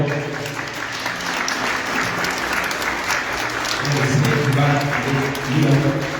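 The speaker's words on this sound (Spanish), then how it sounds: "brindémosle las palmas a este maravilloso coro" Sustained, dense applause from a concert audience fills the hall for a choir singing in Zapotec, steady and full throughout, with faint voices and tones murmuring beneath it.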